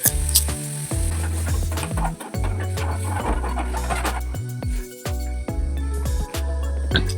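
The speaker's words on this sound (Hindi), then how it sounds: "नमक डाल के मैं अच्छे से भून लूँगी, फिर सारे जो बेसिक्स मसाले हैं वो भी मैं ऐड कर दूँगी साइड बाय साइड।" Tomato and spice masala fries in a pan with a steady, close sizzle, punctuated by repeated stirring clatters and scrapes of a utensil against the pan, with no talking.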